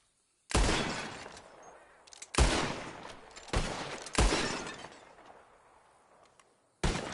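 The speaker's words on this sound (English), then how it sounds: "Whoever shoots more of these bottles wins. Just draw your gun and aim when you're ready, all right? Shoot!" Revolver gunshots hitting bottles in the Red Dead video game: four loud, booming shots spaced about a second apart, each ringing out with a long decaying tail, then one more shot at the end.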